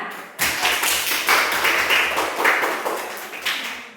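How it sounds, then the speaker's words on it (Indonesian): A school class claps hands together in a sustained burst of applause that lasts several seconds, steady and lively, with no talking. "tepuk tangan"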